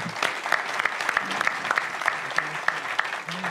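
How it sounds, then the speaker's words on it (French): Audience at a volunteering conference in Challes-les-Eaux applauding, moderately close, scattered individual claps over a steady patter for a few seconds. "à rejoindre Romain, vous pouvez l'applaudir"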